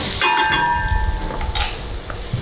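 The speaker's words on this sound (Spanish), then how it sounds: "Vamos a pasar a revolver." Argentine locro criollo stew with chorizo colorado and chorizo is stirred in a pot over steady sizzling and hissing, with a bright metallic ring from the spoon early on and soft scraping and bubbling throughout.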